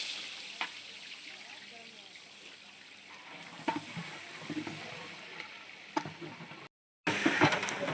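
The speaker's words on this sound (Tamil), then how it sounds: "எண்ணெய் காஞ்ச உடனே வெங்காயம் போட்டு தாளிப்பாங்க லைட்டாக வெங்காயம் தாளிப்பு" Onions sizzle and crackle in hot oil with cardamom and cloves, an enormous batch for a 600 kg mutton biryani cooked outdoors in Kasaragod, Kerala; a steady frying hiss with scattered pops and clatter, briefly dropping out near the end.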